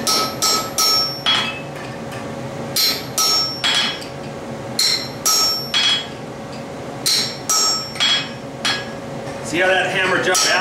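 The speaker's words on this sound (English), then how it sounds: "So right now I'm going to punch a 3/8 of an inch round hole" A hammer strikes a steel punch, driving a 3/8-inch round hole through metal. About fifteen sharp, ringing blows come close and loud in steady pairs and groups, with a voice briefly heard near the end.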